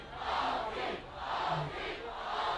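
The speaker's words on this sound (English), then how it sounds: "Big crowd." A big crowd at a live performance, a dense roar of many voices rising and falling in waves, heard from within the audience.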